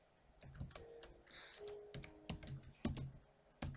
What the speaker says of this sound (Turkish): Şimdi şu not defterine yazıyorum.